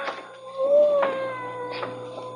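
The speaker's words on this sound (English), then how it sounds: "I hear a cat. He must be right in this room, but I don't see him." A cat meows in an old-time radio mystery drama, two or three drawn-out, wavering calls close to the microphone with a steady low hum underneath and no talk over them.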